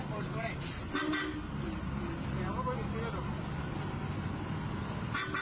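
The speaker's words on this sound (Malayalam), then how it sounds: "ആ ബസ് കുറേ ഹോൺ അടിക്കുന്നുണ്ട്" A bus horn honks amid road noise while someone talks over it.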